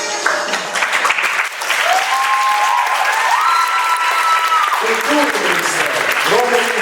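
At a party congress, a crowd applauds heartily as new government ministers enter, steady clapping with voices and sustained tones rising above the applause.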